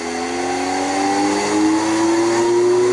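An electric motor run from a VEVOR 2.2 kW frequency drive spins up hard, its steady tonal whine climbing in pitch, loud and close, with no talk over it.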